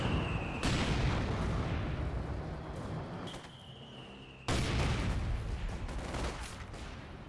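Artillery in the video game Company of Heroes 2 sounds as dense, rumbling barrages with sharp booming onsets, one heavy blast landing midway and the bombardment rolling on continuously with no talk.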